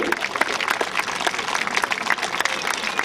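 Steady audience applause at a live show, dense continuous clapping from many hands filling the whole stretch at an even, fairly loud level.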